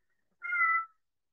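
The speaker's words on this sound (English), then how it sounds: "We've got a cat in the class now" A wandering cat gives one clear, close meow in a quiet class setting, with silence before and after.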